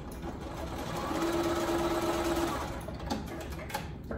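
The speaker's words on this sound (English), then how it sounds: "So you're just gonna sew it on either side." A sewing machine stitches a seam on a small pumpkin quilt block, a quiet steady whirring hum at close range that rises briefly and then eases off, with no talking.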